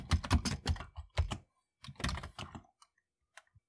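Bursts of clattering keystrokes on a Commodore 64 keyboard as a short BASIC program is typed in, quick irregular clicks in two runs separated by a pause, trailing off into a few isolated taps.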